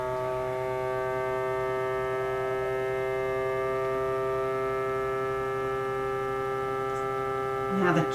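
A kitchen vacuum sealer runs with a steady electric hum, close and continuous, its tone barely changing, with a small handling noise right at the end.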